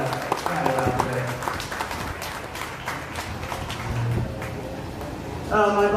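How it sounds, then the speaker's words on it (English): Spectators at a county fair beef cattle show give exhibitors a round of applause, continuous crowd clapping over a loudspeaker voice that talks across it, in a large open arena. "Give these exhibitors a nice round of applause."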